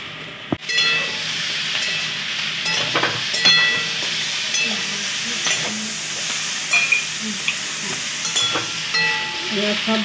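Vegetables such as potato, pumpkin, radish and sweet potato sizzling in a pan, a continuous hiss broken by repeated scraping and clanking stir strokes, with one sharp knock near the start.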